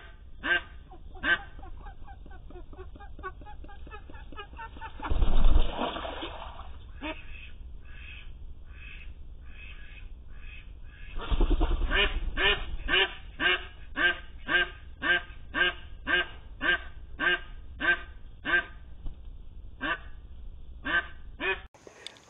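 A six-month-old duck beside its nest quacks over and over, with a couple of loud, harsh outbursts early on, then a steady run of rhythmic quacks close to the listener.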